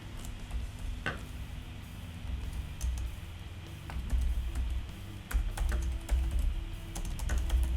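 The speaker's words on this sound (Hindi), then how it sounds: "कुछ भी यहाँ पे मैं टाइप कर देता हूँ" Typing on a computer keyboard while editing a menu design in Canva, a steady run of close, light key clicks over a low background hum.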